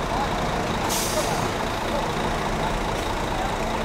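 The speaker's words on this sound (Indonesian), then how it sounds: "Masuk ya, armada bantuan bus Sembodo" A Sembodo bus rolls in with a heavy diesel rumble and a sharp hiss of air brakes, loud and close, with a second fainter hiss a couple of seconds later.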